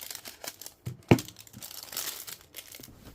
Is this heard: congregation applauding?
no